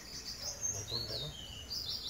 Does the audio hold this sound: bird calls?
yes